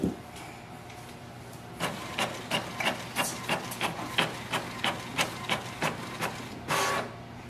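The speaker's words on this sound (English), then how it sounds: "I'm just going to print a document. That is a printer test page." A Canon MAXIFY GX4040 printer prints a test page, starting with a brief whir and then a steady run of about a dozen rhythmic mechanical clacks as the carriage moves, ending in a short feed rush, close and clear with no talking.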